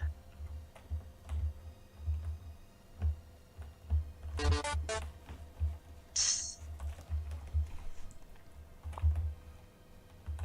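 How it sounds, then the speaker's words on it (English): Keys tapped on a computer keyboard during the Marathon video game mod set off a steady ticking pulse, with a brief rattling burst of clicks and a short high chirp in the middle, close and moderate in level. "Keyboard mapped sound effect system that you can't turn off."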